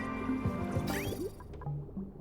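Liquid drips and gurgles as a cooling loop fills in an aquatic planet video game, several close wet plops and squishy trickles over a steady ambient hum.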